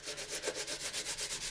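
Steady rhythmic sanding rubs across the saucer of an AMT 1983 U.S.S. Enterprise model kit, about ten even back-and-forth strokes close up with no talking.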